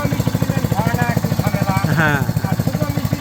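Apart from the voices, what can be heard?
petrol-powered irrigation pump engine running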